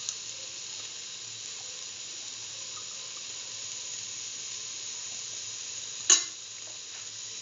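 Two spoons of mustard seeds sizzle steadily in hot oil as a potato and bell pepper stew gets started, a continuous close hiss broken by one sharp clatter near the end.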